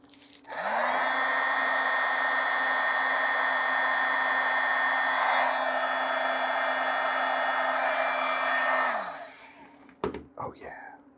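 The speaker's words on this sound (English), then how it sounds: "Got a little shrink wrap here. And a little heat gun action." Heat gun blowing on shrink wrap, a loud steady whooshing fan whine with a constant motor hum, starting abruptly and running about eight seconds before spinning down, followed by brief handling clicks.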